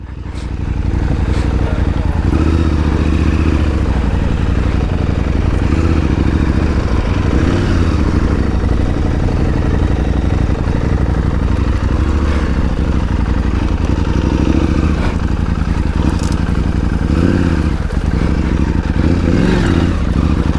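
A KTM 890 Adventure R motorcycle rides on a dirt track, its engine droning loud and steady with rising and falling revs and rattling clatter throughout, and no voices.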